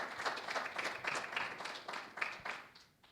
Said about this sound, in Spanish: otro aplauso por favor para Nelson